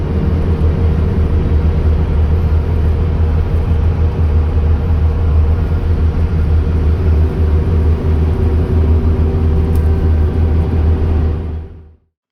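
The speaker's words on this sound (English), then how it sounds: "Today you join me on board a Bustech VST, travelling through a forest." Steady, loud cabin drone aboard a Busabout Bustech VST bus on an MAN 19.320 chassis travelling through a forest, a constant low engine rumble and road roar that holds evenly before cutting off at the end.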